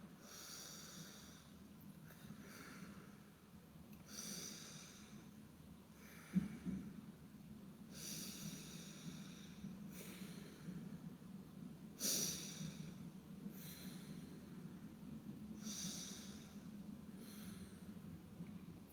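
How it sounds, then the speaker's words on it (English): Slow, deep breaths drawn through the nose, about eight soft airy cycles at an even unhurried pace, close and quiet with no talking. "I like to make my breaths through my nose, not my mouth."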